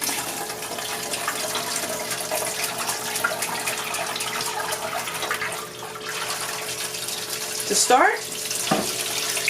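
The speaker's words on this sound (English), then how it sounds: "we're going to put some water in our pot" Water runs steadily from a tap into a large pressure canner pot, filling it to about a quarter of the way up the jars, with a brief burst of clatter near the end and a spoken word at the start.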